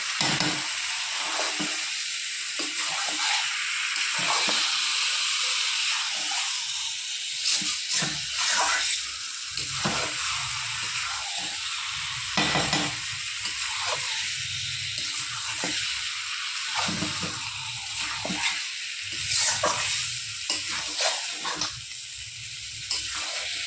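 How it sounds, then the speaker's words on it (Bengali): Mutton fries in a pan with spices, giving a continuous hissing sizzle broken by repeated scraping and stirring strokes of a spoon, close and fairly loud. "ভালো করে মশলা দিয়ে কষিয়ে নিই।"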